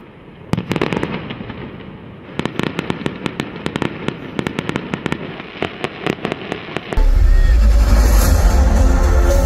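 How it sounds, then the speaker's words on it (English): Fireworks display for Belgium's National Day, with dense rapid crackles and sharp pops in quick bursts, loud and close, ending in a sustained roaring wash of noise. "Thrilling and captivating fireworks."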